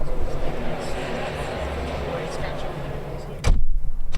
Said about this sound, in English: So we're in a very loud location in the Business Design Centre in Angel at the podcast show.